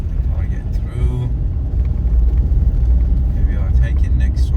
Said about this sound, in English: there's a car coming, it's a bit tight, slowing down